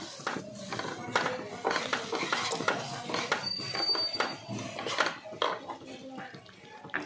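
Cashew and almond powder being mixed into a besan barfi mixture in a pot: a utensil scrapes and clinks against the metal in irregular strokes, close and clear, under faint background sound.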